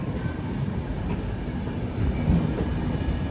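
Steady rumble of a moving passenger train on the Shraddha Sethu Express in 3AC, heard from inside the coach: dense low-frequency roar with faint rhythmic clatter, continuous and fairly loud, with no voices.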